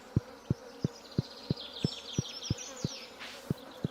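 Bees buzzing in Stardew Valley, a faint high drone over a regular ticking beat of evenly spaced soft thumps, quiet game ambience with no talk.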